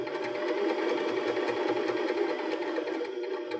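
Sewing machine running steadily at close range, stitching fabric along its edge with a 3/8-inch guide on the needle plate while making a cork strap trimmed purse; one continuous even whir with no voices.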